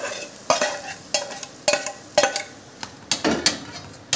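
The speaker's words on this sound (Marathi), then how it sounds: "आणि मिक्स करून घेऊया छान" A spoon stirs potato filling mixed with chutney in a pan, giving sharp repeated scrapes and taps in an uneven rhythm about every half second over a faint sizzle.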